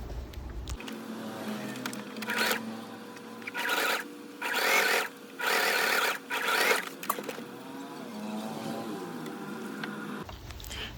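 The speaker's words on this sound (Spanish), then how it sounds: "Si tienes una máquina de coser, perfecto, yo tengo una máquina y voy a hacer esto en la máquina" A home sewing machine runs in several short bursts of close, whirring stitching along the sides of a crochet flower puff bag, with quiet pauses and handling noise between runs.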